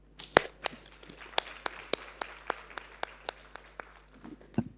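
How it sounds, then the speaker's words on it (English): Sparse applause from a small audience at a judicial leaders' meeting, a dozen or so distinct claps spaced out over a few seconds, fairly quiet in a large room. "One round of applause, please."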